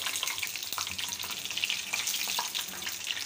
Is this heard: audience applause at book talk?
no